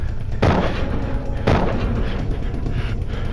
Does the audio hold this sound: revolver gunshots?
yes